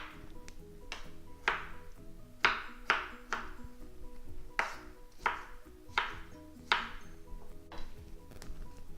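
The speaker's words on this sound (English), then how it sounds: "I'll chop these up" A knife chops tomatoes for salsa on a cutting board, about a dozen crisp, fairly quiet strikes in an uneven rhythm over faint background music, with no talk.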